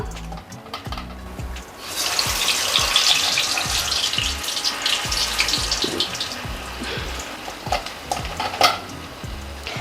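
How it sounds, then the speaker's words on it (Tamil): Vada batter drops into hot oil and fries with a busy, fairly loud bubbling sizzle that grows and carries on steadily, broken by small clicks and scrapes, no talking. "எண்ணெய் நல்லா காஞ்சிடுச்சிங்க வடை போட்டுடலாங்களா"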